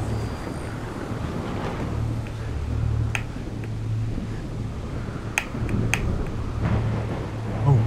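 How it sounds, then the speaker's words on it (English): Thunderstorm in The Solus Project game: a steady low rumble of wind and rain with several sharp crackling thunder strikes and a heavier roll near the end, no talking. "I've never been in a storm like this."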